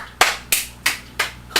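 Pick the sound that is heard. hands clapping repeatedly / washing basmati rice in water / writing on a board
hands clapping repeatedly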